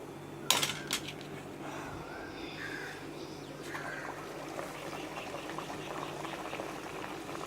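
Puri dough frying in hot oil makes a steady, close bubbling sizzle, with a few light clinks of utensils near the start, heard alone without talking.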